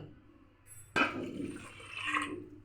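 Water is poured from above into a cooking pot of lentils, starting with a sudden splash and continuing as a brief, close gurgling fill that ends within about two seconds.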